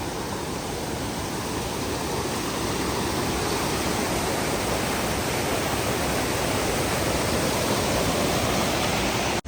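The Gira Waterfall in Dang, Gujarat, in the monsoon, roars in a dense, unbroken rush of flowing water, loud and close, with no talking over it.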